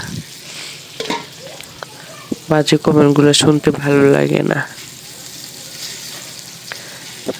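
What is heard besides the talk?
fish frying in a pan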